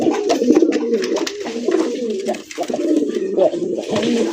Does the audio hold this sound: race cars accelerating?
no